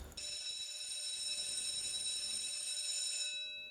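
A school bell rings in a continuous, steady electronic tone that holds for nearly four seconds before cutting off.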